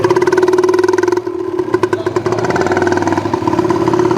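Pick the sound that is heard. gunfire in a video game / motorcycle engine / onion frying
motorcycle engine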